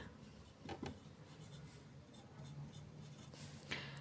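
Faint, soft scratching strokes of handwriting as a math answer is written out, a few brief scribbles over a quiet background.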